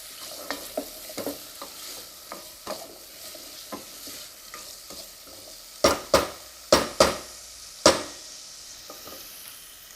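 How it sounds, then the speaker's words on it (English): Vegetables sauté in a pan under a low steady sizzle, punctuated by soft repeated stirring scrapes that give way to several louder sharp knocks of a utensil against the pan. "Just by sauteing a few of the vegetables at the start, it helps to release the flavours a little more into"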